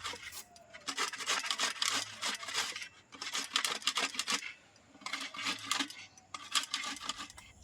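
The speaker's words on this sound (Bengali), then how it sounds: "সমস্ত আমলকিগুলোকে আমি এভাবে গ্রেট করে নিয়েছি" Whole amla, Indian gooseberries, scraped across the large holes of a metal grater in three bursts of rapid rasping strokes, close and crisp with short pauses between.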